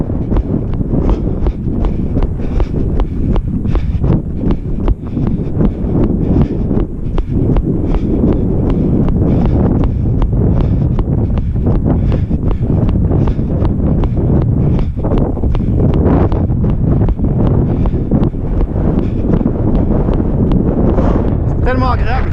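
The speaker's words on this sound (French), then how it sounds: "Donc là, le vent est de face." Strong headwind buffets the microphone of a runner on a triathlon run course in Embrun, a loud, continuous roar with rhythmic footfall thumps running through it.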